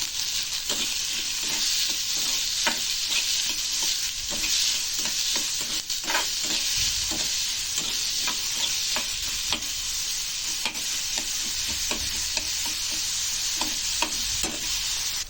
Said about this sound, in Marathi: कांदा आपण व्यवस्थित फ्राय करून घेऊया।